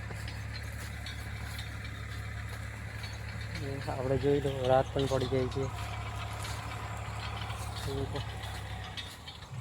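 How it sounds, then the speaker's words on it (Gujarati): A tractor digs groundnuts out of a field as night falls, its low engine drone running steadily from start to end while people talk over it. "ટ્રેક્ટર હજી મગફળી કાઢી રહ્યું,"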